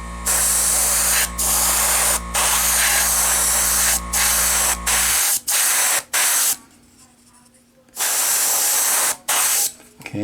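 Spray paint hisses from an aerosol can in a series of close, loud bursts with short gaps as a coat goes onto a model dummy figure, a low hum dropping away halfway through.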